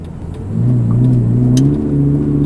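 A Lamborghini Gallardo accelerates at full throttle, its engine rising into a loud, steady, climbing roar heard from inside the car.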